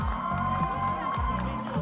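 Crowd at a Siam Center fan event cheering and applauding the artists: continuous clapping blended with shouts and whoops, loud and close, with a sustained tone and voices underneath.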